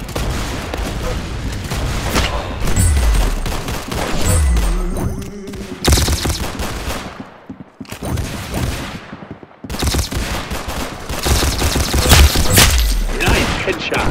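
Gunshots ring out in Roblox Arsenal gameplay, loud sharp cracks and thuds in bursts, with a headshot hit among them and excited voices talking over the action.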